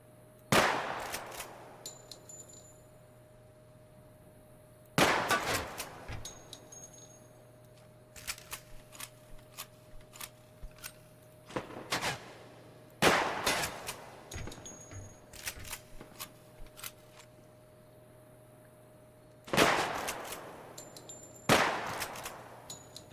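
Gunfire in the video game Project Silverfish: sharp shots ring out in clusters of several bursts spaced a few seconds apart over a steady low background hum, with small clicks and metallic ticks in between.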